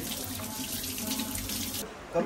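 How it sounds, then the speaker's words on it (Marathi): Tap water runs steadily into a sink as a phone is washed under it, then cuts off near the end, followed by a brief clatter. "फोन धुलाई चालू आहे आपली"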